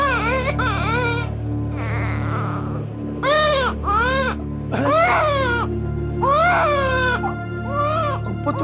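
An infant cries in repeated rising and falling wails over a steady low drone of background music, the cries loud and close with short gaps between them.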